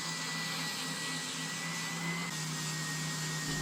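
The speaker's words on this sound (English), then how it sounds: "having to use the spindle sander to actually get it down to 3mm consistently" A spindle sander runs steadily while thinning a cedar strip to 3mm for a guitar build, giving off a close, constant whirring drone with a faint tonal hum and sanding noise.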